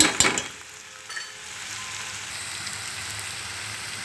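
Ivy gourd pieces cooking in a pan with salt, a soft continuous sizzle and gentle frying hiss after a brief stirring clatter at the start, close and moderate in level.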